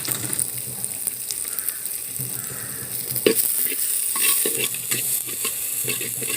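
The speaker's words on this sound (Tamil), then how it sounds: "இப்போ சின்ன வெங்காயம் வந்து நல்லா கோல்டன் கலரில் வர்ற வரைக்கும் நல்லா நம்ம வதக்கிடலாம்." Small onions and garlic sauté and sizzle steadily in a hot pan for a village-style green turkey berry kara kuzhambu, with a spoon stirring and scraping now and then, close and fairly loud throughout.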